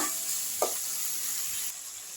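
Onion and tomato sautéing in a pan for sambar give a faint, steady sizzle, with one brief clink of a utensil near the start.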